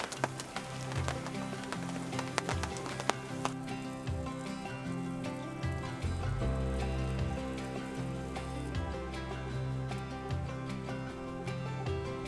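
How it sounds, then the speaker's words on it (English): Big raindrops fall in the desert and patter steadily on nearby surfaces, a dense, continuous drumming with scattered louder drops. "Got some big raindrops here in the desert."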